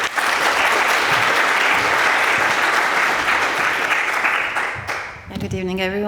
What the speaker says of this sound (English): please give Snezana a rousing applause